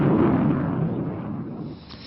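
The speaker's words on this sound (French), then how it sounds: "Explosion et éruption aussi sur la terre ferme avec cette nouvelle éruption donc de l'Etna qui gronde à nouveau en Sicile" Deep, continuous low rumble from Mount Etna erupting in Sicily, a heavy roar that slowly fades over two seconds with no voices.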